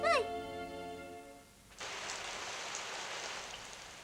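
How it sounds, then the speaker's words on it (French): Steady rain falling, a dense even hiss that starts abruptly and continues to the end, preceded by a brief voice and a quiet pause. "Je me suis fait surprendre par la pluie, je suis trempé."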